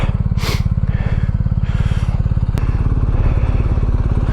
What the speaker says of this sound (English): This is a Suzuki DRZ 400.